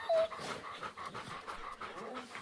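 Sled dogs in the video game The Pale Beyond pant and whine in a close, busy burst of yips and breathy huffs, with one sharp high whimper at the start.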